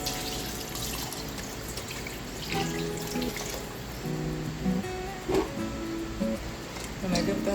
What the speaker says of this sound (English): So he added some water to the pot now.